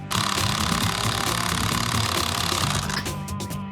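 A power-driven bolt torqued into a structural frame while reinforcing a home, a loud continuous mechanical whir with a rattling pulse that slows and fades near the end.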